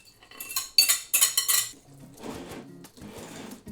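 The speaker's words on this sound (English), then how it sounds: "you just want to stir until it just comes together and there's no more dry ingredients throughout" A utensil clinks and scrapes against a bowl as apple walnut cake batter is stirred into dry ingredients, a quick burst of sharp metallic taps followed by softer, duller mixing sounds, close and without talk.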